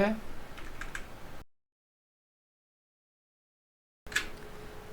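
Keys clatter on a computer keyboard as a package-install command is typed on Linux, in short bursts of quick taps close by, broken by a stretch of total silence in the middle.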